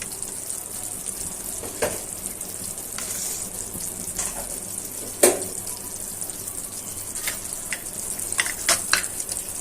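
Spice masala of turmeric, chili and cumin with pangas fish roe fries in a pan with a steady low sizzle and scattered sharp clicks and scrapes of stirring.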